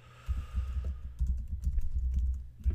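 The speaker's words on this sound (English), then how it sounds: "If you type in a URL" Close, steady typing on a computer keyboard while a URL is entered, with rapid soft key taps and thumps running continuously and no voices.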